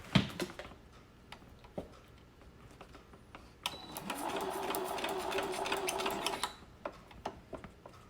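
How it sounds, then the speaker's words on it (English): A sewing machine stitches a fabric filtered face mask, with a few scattered clicks and handling taps before a steady fast whirring run of stitching for about three seconds that then stops. "And then we'll sew that side on."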